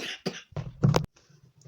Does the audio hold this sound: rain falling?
no